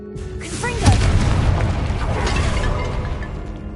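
A Confringo fire spell from the video game Hogwarts Legacy bursts with a loud booming blast near the start, followed by a sustained rumbling, crackling roar that slowly fades.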